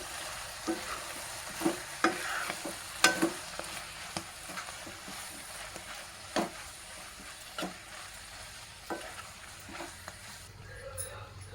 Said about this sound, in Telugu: వీటిని కూడా మంచిగా ఫ్రై అవ్వనివ్వాలి, ఆయిల్ పైకి తేలే వరకు.